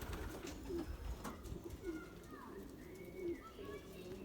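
Belgian racing pigeons coo softly in a few low, rolling calls at a moderate distance over an outdoor background hum, with faint chirps mixed in.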